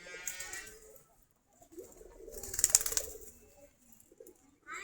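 Bangladeshi Giribaz pigeons coo softly while feeding in the morning, low murmuring calls rising and falling close by, with a few quiet rustles and no talking.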